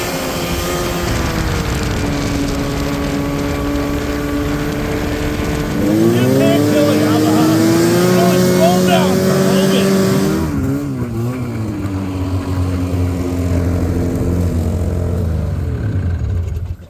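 Yamaha snowmobile engine with a bad piston runs as a steady, loud drone whose pitch rises sharply around the middle, holds high, then dips and fades toward the end.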